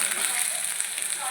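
Sliced onion frying in hot oil for a vegetable dish, a steady soft sizzle with fine crackling throughout, close and even, with no pause in the hiss.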